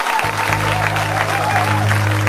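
Audience applause at a Christian testimony gathering, a steady broadband clatter of clapping that continues throughout over sustained low musical tones.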